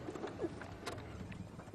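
A bird calls a few times in soft, cooing notes over a quiet outdoor background at sunrise in the Sabi Sand game reserve, South Africa, fairly faint and unhurried.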